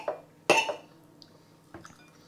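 Cutlery slicing through a cheese and onion bake on a plate: one sharp clink of metal on crockery, then a few softer taps and scrapes, close and fairly quiet.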